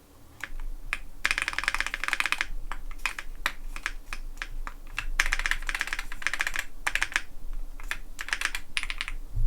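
Typing on a Keychron Q3 Max TKL mechanical keyboard fitted with black custom keycaps, bursts of rapid clacky keystrokes alternating with slower single presses, close and clear with no talk.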